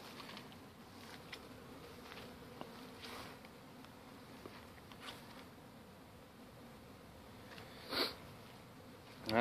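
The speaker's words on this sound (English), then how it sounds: "I don't know if you can see the bees in the air." Bees buzzing in the air around hives after a brood hatch-out, a steady diffuse hum of many insects close by, with a few brief louder passes near the end.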